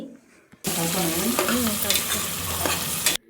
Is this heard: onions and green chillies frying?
yes